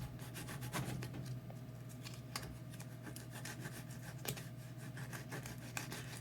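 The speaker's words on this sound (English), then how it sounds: "you're just gonna scratch that whole area that you marked where it was" Rubber on a flat tire's marked patch area scratched with a scratching tool, a continuous close rasp of quick strokes over a low steady hum, fairly faint and without talk.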